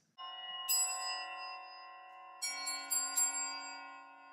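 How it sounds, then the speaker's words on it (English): Shimmering metallic prayer bells and crotales struck in a few clusters, each ringing with long sustained tones that overlap and decay slowly, bright and close, no voices. "this is a movement with 26 prayer bells and crotales."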